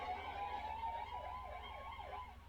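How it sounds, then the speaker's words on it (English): Ambulance sirens wail outside a hospital in Deir al-Balah in a busy emergency scene, one siren sweeping up and down in a steady, repeating rise and fall over a low rumble of traffic and crowd noise. "Constant wail of sirens"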